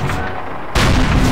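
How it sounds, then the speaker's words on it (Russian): Gunfire in the World War II shooter Call of Duty, a dense, loud burst of continuous shooting that erupts suddenly partway through after a quieter, rumbling battle background. "Встречная стрельба!"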